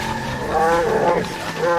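A bus tears along at full speed with a green creature riding on top, given as a loud, continuous roaring sound effect with a rising and falling growl under a narrator's voice.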